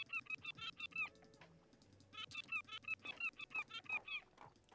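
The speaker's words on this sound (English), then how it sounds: "This is the first seagull that sounds like a seagull." Seagull calls from the video game Tiny Bookshop, a run of repeated bright squawking cries in quick bursts over soft background music, fairly quiet overall with no talking.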